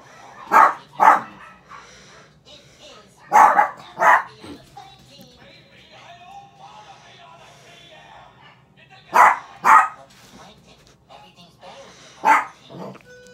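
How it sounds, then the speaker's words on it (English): Several dogs barking in short paired bursts, three or four clusters spread across the span at moderate distance, with quiet voices talking between them. "Sorry about the dogs."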